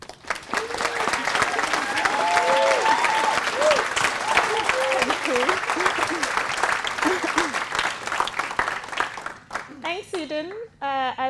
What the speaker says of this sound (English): so we'll just give a round of applause.